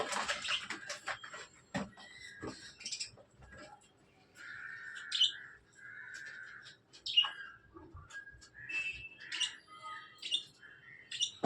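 Budgies and a lutino bird in a cage give faint chirps and short calls, with soft scattered rustles and flutters as they hop and fly about.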